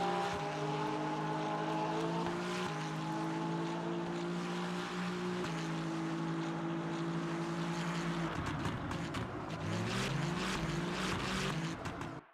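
A race car engine in the Daytona GT3 racing video game, buzzing steadily with rising and falling pitch as it shifts through gears, then turning rougher and more ragged near the end.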